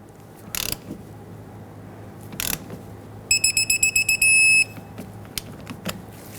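A torque wrench tightens the banjo bolt on a rear brake caliper of a 2011-2015 Kia Sorento, with short ratcheting bursts, then a rapid string of clicks and a sustained tone, close up with no talk.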